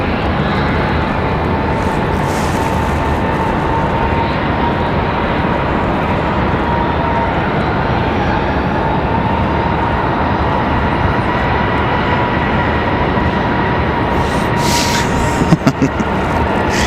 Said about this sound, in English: As our exec jet crosses.